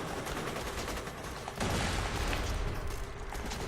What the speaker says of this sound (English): he's gonna be gone in 5 seconds with this gun. I love this gun!